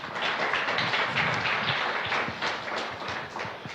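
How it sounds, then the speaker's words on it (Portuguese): A church congregation claps and applauds steadily throughout, a dense, continuous wash of many hands at moderate loudness with no speech over it. "Aplauda o Senhor Jesus."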